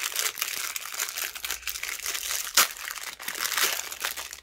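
Crinkly plastic crackling and rustling in short bursts as a roll of sticky tape is unwrapped, with one sharper rip partway through, close up and fairly continuous.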